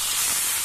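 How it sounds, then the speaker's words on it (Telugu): Boiled semiya (vermicelli) being strained after cooking, a steady, close rushing hiss of hot water pouring through without a break and with no voices. "ఇలా ఉడికిన తర్వాత స్టవ్ ఆర్పేసేసి ఇది స్ట్రెయిన్ చేసుకోవాలి."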